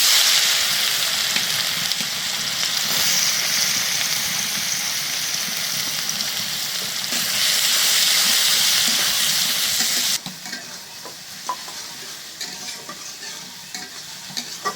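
Chopped onions with a bay leaf fry hard in a pan, a loud, steady sizzle with stirring scrapes that drops to a softer, more crackly hiss for the last few seconds.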